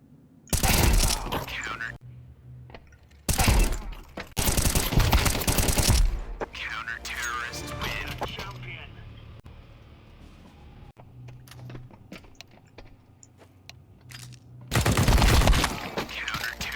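Bursts of automatic gunfire from a weapon in an online shooter game, loud rapid volleys in three separate stretches with quieter game ambience and faint clicks between them, no talking.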